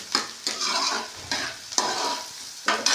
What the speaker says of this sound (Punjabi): ਪਿਆਜ਼ ਨੂੰ ਆਪਾਂ ਥੋੜਾ ਜਿਹਾ ਵਧੀਆ ਕਰਕੇ ਭੁੰਨਾਂਗੇ